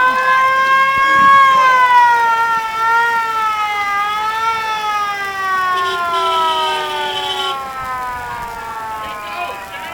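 A fire engine's siren wails at a Fourth of July Independence Day parade in Nevada County, a loud, close, slowly rising and falling tone that holds throughout with faint crowd noise beneath.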